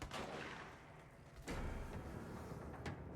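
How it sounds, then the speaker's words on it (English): Distant gunfire in the game Control, a few sharp cracks spaced apart over a low rumbling background, fairly quiet overall. "Those were gunshots."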